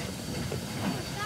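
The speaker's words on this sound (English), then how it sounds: "The train coming back is going to get fixed on now." A steam train on the Rheidol railway at Devils Bridge is coupled on, heard as a steady hissing rumble with faint clanks and low mechanical noise at moderate distance, with no clear voices.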